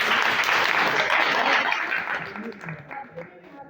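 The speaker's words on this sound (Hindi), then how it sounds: "ताली बजाओ।" A classroom of students claps together in sustained, dense applause, loud and near, then tapers off over a few seconds.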